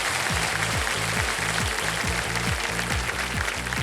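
A studio audience on a quiz game show applauds a correct answer with steady, continuous clapping, while a rhythmic musical beat pulses underneath throughout.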